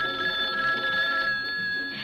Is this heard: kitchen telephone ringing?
yes